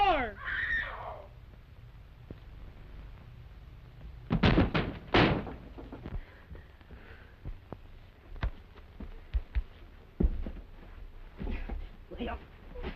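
A fist pounds on a closed door in an old 1930s film scene, a tight burst of three or four loud knocks followed by sparser thumps, with people talking and shouting around them.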